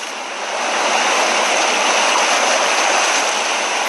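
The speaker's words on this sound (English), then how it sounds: "I love the way the ocean sounds." Ocean surf washes in a steady, loud roar of breaking waves and foam, with no voices over it.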